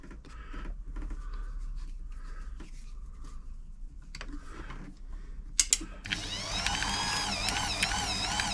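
A Frister & Rossmann 904 sewing machine mechanism running after a service, with irregular mechanical clicking and light knocks that turn into a faster, steady whirring hum in the final seconds. No voices.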